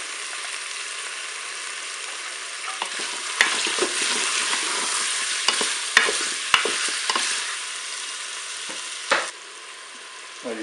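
Garlic and chicken thighs browning in a Cookeo multicooker, a loud continuous sizzle with scraping stirs and clacks of a utensil, then the frying drops quieter near the end.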